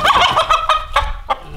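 A tethered chicken clucks loudly and close by in a quick run of harsh, choppy calls, several short bursts in a row with no talking.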